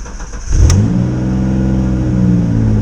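The engine of a Ford Ranger pickup with rev and power problems cranks briefly, catches and roars up loud and close, then settles into a steady high rumble.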